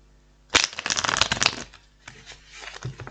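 A deck of cards being shuffled close by, a quick riffle burst followed by softer shuffling and handling noises.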